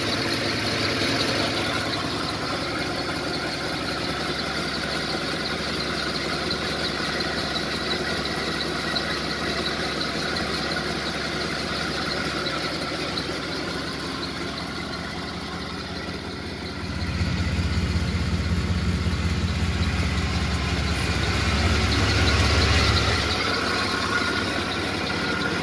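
A 1956 Chrysler Windsor engine idles steadily after a cold start, a smooth continuous running note heard close up, with a louder, heavier stretch near the end.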